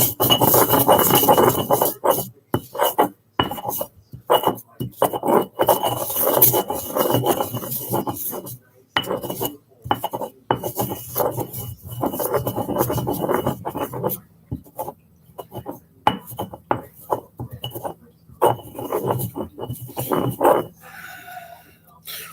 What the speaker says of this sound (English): kind of grind this up here